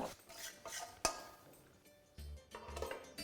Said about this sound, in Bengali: এই স্টেজে আপনার এখানে দিয়ে দিতে হবে ঢাকাটা